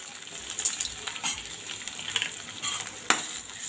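Onions sauté in a pan for a red pumpkin masala, with a soft, steady sizzle broken by the scrape and clink of stirring, including one sharp knock near the end.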